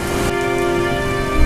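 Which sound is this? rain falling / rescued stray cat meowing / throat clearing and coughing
rain falling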